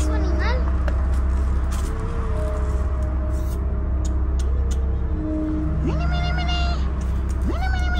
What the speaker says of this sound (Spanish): Ahí hay un gato, ¿eh, Mariela?